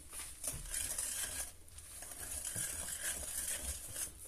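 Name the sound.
stirring chocolate cake batter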